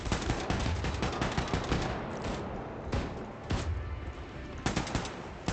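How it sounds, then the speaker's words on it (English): Rapid turret gunfire in the shooter Wolfenstein II: The New Colossus, loud sustained automatic bursts with brief pauses and heavy thumping impacts. "this turret is weak as hell"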